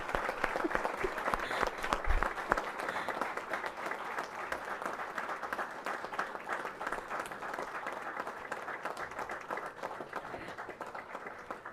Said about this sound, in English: Let's clap at least.